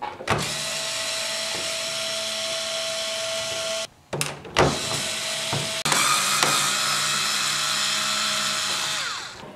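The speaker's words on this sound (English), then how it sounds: "you're going to want to unscrew all the screws in the gun" A power screwdriver whirs steadily while backing out the screws of a Nerf Socom blaster, running in long continuous bursts with brief pauses between screws; no one speaks.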